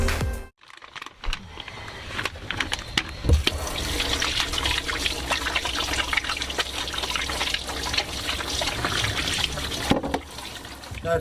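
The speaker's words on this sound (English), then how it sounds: "I'm trying to have a shower" Shower water runs in a continuous hissing, splashing stream, close and steady for the whole stretch after a brief opening gap.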